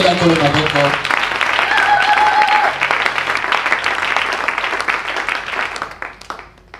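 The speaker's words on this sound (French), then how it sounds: "Acclame pour notre Dieu." A church congregation applauds loudly at a Monday worship service, a dense burst of clapping and crowd noise mixed with voices that gradually fades toward the end.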